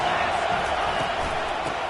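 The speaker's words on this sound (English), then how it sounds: "This crowd rising up, sensing that its defense needs some help." A football stadium crowd roars in a steady, loud wash of cheering that fills the whole moment, with a commentator talking over it.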